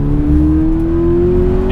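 A 2020 Toyota 86 TRD with the Handling Package revs its 205-horsepower Subaru flat-four engine, producing a loud, close, continuous drone whose pitch climbs steadily.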